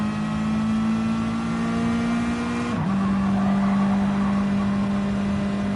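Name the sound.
race car engine revving in a racing video game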